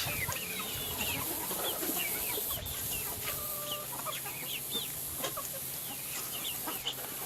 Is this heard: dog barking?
no